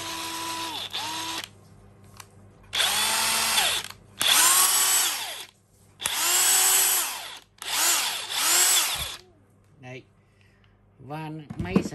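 A DeWalt 899 cordless impact wrench made in the USA, running on a FLEX battery, gives about six loud, sustained bursts of whirring and hammering, each lasting one to two seconds with short pauses between them, ending in a few brief clicks.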